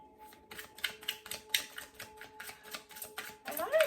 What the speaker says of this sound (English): I don't know why I'm shuffling this deck